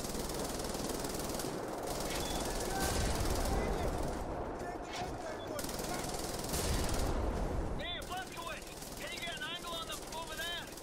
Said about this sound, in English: another machine gun